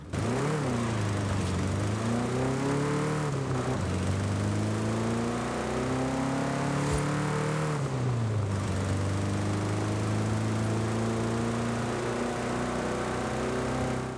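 A 1.5-litre Volkswagen Thing engine in Forza Horizon 5 drones and revs up and down in sweeping pitch changes, buzzy and continuous, with no voices.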